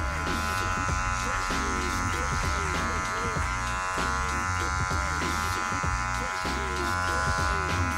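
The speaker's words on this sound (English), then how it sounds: "we're going to go ahead and cut against the grain right in that area" Electric hair clippers buzzing steadily and close while cutting hair against the grain during a bald fade haircut, a constant motor hum with no talking.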